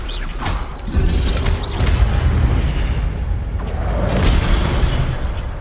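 Spell effects from the Hogwarts Legacy video game fill the clip as combat sounds in steady sequence, with a loud boom and burst near the start and crackling, creaking impacts carrying on to the end, and no talking.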